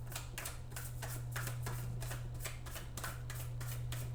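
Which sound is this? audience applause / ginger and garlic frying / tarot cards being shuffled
tarot cards being shuffled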